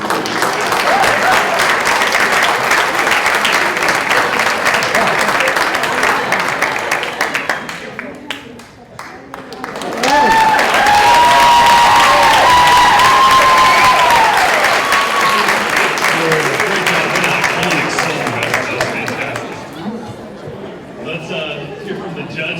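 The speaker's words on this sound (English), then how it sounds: "Just give a round of applause." Loud, sustained audience applause fills a seniors talent show hall, a steady wash of clapping that dips briefly before swelling again, with crowd chatter and a presenter's voice heard over it.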